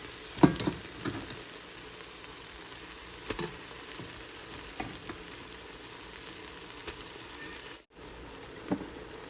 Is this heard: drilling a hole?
no